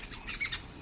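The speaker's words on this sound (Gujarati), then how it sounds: "ખાલી ચકલાનો ને બીજા પક્ષીનો ને એનો જ તમને અવાજ" A few quick, bright chirps from sparrows and other birds ring out faintly over quiet outdoor background noise in a forest.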